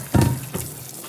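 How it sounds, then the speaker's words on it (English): Cool tap water runs into a colander of rinsed noodles at a kitchen sink, a brief splashing gush near the start and a second smaller splash, over a steady water hiss. "Dip it into our colander. And then rinse."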